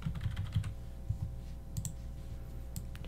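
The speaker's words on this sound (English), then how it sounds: "So I'm going to type in a word here" Typing on a computer keyboard while entering a word as text in Cricut Design Space, a few quick key clicks in short clusters, close and fairly quiet, no talking.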